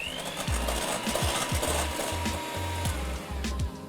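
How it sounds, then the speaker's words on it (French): Egg whites being whipped with sugar into a meringue for a coconut and lime biscuit, a steady mechanical whirr of a beater with regular rhythmic low knocks against the bowl, close and continuous without speech. "je vais maintenant battre mes œufs"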